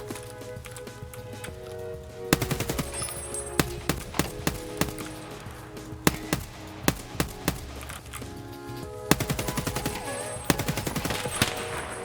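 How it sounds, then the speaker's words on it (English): A shootout in the Escape From Tarkov Woods map, with a boss returning fire from an SVD rifle. Repeated sharp shots and bursts are scattered across the stretch, loud against a ground of rustling movement, with no voices. "After shooting at the second guard, the boss was returning fire with his SVD"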